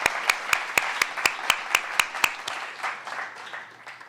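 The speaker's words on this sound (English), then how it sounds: "we need to give Bonnie a round of applause for her work on this project" Sharp, evenly spaced rhythmic claps from an audience at a film screening, about ten strong beats that loosen into scattered, fading applause.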